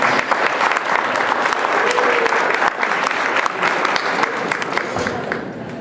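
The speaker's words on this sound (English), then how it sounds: "So if we can please give them a round of applause" A dinner crowd at a school event gives a loud, sustained round of applause for the band boosters, dense clapping close by that continues steadily and tapers slightly toward the end, with some crowd murmur mixed in.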